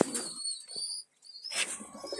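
Pigeons, a pair of Teddy pigeons among them, cooing nearby in two short bursts separated by a brief pause, with faint chirpy overtones and no talking.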